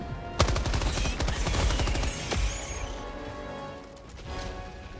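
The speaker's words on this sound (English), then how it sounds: "machine gun sentry is back available, so let's call that in" Machine gun sentry in the Helldivers 2 video game rattling out rapid, loud bursts of automatic fire with heavy impacts, fading toward the end into scattered distant shots.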